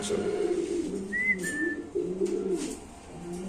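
Low, throaty coos of white Bombay and Mundian pigeons repeat steadily in a crowded chorus, with a brief whistle partway through and some background murmur.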